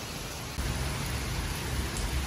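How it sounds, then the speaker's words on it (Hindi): Heavy monsoon rain pours down around a home whose room is leaking, a dense, steady hiss that grows slightly louder after the first half second and continues without a break. "आज भी बारिश बहुत पड़ी है।"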